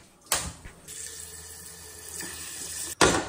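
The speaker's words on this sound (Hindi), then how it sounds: "इसमें भर लेते हैं पानी" Water pours steadily from a tap into a vessel, a close, even rush lasting a few seconds, with knocks at the start and end as the flow begins and stops.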